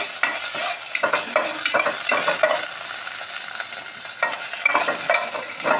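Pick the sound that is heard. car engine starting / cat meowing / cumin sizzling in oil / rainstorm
cumin sizzling in oil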